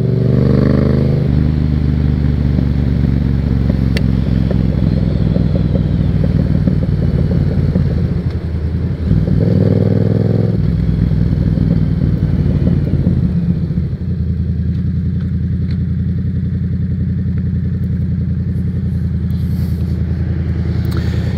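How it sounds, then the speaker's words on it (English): A loud Yamaha FZ07 motorcycle engine roars steadily while riding on the road, with throttle changes and a brief dip midway and continuous wind rumble throughout. "people probably stared because this is a loud bike."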